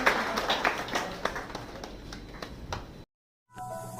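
An audience at a community engagement event at Jubilant Ingrevia Limited claps to open the proceedings, a run of moderately distant applause that stops abruptly before a short silence.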